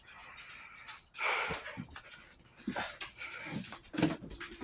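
A Maltese dog whining indoors, thin breathy whimpers and nasal snorts coming in short uneven bursts, close and fairly quiet, with a few louder squeaks near the end.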